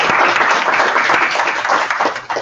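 An audience at a Java developer career workshop in Jacksonville gives a dense, loud round of applause that runs steadily throughout, with no talking over it.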